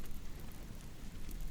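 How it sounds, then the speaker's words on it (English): A rain storm sound effect with a torrential downpour hissing steadily, low thunder rumbling beneath it, dense and unbroken with no voices. "a crashing reverberation, and the first breaking of a torrential downpour that beat maniacally against the windows"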